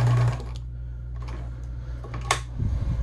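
Gritzner VZ (Kenmore 117.740) sewing machine stitching, a steady close mechanical whir with a low hum and fine rapid ticking, running smoothly and fairly quietly, then slowing at the end.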